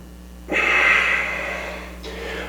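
A single long, audible exhale during a yoga stretch, close and breathy, lasting over a second before fading, then a softer second breath begins.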